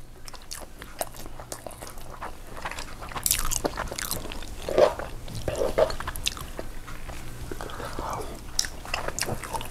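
Chewing and biting sounds from a Korean home meal of spicy webfoot octopus, with intermittent crunchy bites and mouth noises close to the mic, soft scrapes and faint speech in the background.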